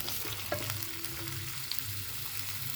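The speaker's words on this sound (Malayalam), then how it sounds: "അതുപോലെ തന്നെ ഗാർലിക് അരിഞ്ഞത്, നമ്മളെല്ലാം കൂടെ ഒന്നിച്ചിട്ടാണ് വഴറ്റുന്നത്." Chopped ginger, garlic and onion sautéing in a pan for a cauliflower and potato curry, a steady soft sizzle with faint stirring scrapes throughout, no voices.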